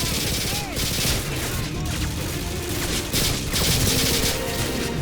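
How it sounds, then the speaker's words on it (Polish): Dense, loud gunfire fills a Call of Duty Modern Warfare 2 battle, rapid automatic bursts and overlapping shots running continuously, with a player speaking over it. "Gdzie oni tam strzelają jeszcze?"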